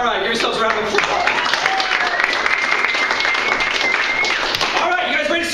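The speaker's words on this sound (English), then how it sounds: "give yourselves a round of applause" Audience at a theatre student showcase claps loudly and steadily in a full room, with cheering and chatter running under the clapping.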